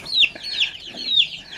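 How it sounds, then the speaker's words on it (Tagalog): Rhode Island Red chicks and hens cluck in a steady run of high chirps, about four rising-and-falling calls in quick succession, close and clear with no talking. "nandito rin po yung mga Rhode Island Red natin na mga sisiw"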